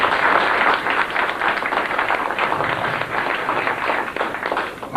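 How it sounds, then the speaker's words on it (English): An audience applauds Dr. Josef ben Jochannan at a lecture on Nubia, dense steady hand clapping in a hall that runs the whole way through, loud at first and then easing slightly. "I just like everybody just to clap your hands and just say thank you."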